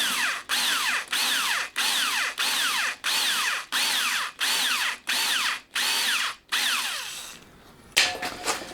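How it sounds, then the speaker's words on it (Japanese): A power drill cuts the valve seat of a Honda Monkey engine in a series of about ten short bursts, each a close, buzzing grind with a rising whine, separated by brief pauses. "ドリルも使っていきます"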